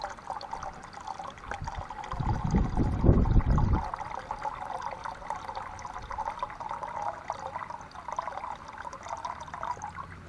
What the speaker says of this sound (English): I've just filled my billy can.